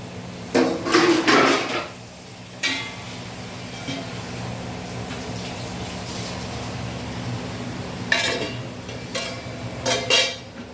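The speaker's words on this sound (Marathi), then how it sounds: "आता आपण याच्यावर काय करायचं, झाकण ठेवूया." A lid goes onto a pan of cooking vegetables seasoned with curry leaves, with a cluster of close metallic clatters and scrapes, a lone knock, then more rattling clanks near the end over a steady low hum.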